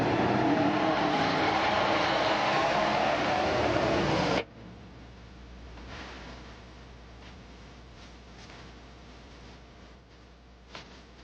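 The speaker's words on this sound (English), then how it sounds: "It's exciting to watch my car race." A race car roars loudly past at speed for several seconds, then the sound drops sharply to a distant, quieter background with faint scattered noises and a small click.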